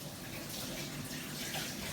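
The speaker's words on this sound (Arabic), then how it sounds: "نحاول دقيقه نغسل يدي" Tap water runs in a steady rush while hands are washed beneath it in a kitchen, a soft continuous splashing at moderate distance lasting a couple of seconds, with no voices.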